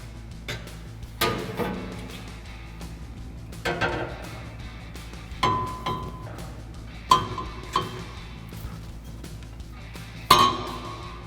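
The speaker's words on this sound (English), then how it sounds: "Now we go ahead and slip our clamp onto our muffler" Metal exhaust clamp clinking against a Flowmaster muffler during a dual exhaust install on a 2015-2020 Ford F-150, with sharp scattered clinks and taps spread across the span, close up and fairly loud.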